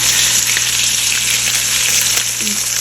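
Onions frying in a kadai give a steady, dense, loud sizzle that stays even throughout, heard up close with no voices.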